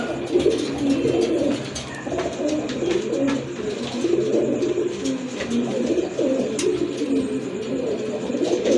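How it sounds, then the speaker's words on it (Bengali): Several Rajgolla racer and Giribaz pigeons coo in a steady, overlapping murmur, some close and others farther off, continuing without a break and with no talking. "আরেক জোড়া কবুতর এটা হচ্ছে আপনার কালো চিলা না ভাই কালো চিলা কবুতর"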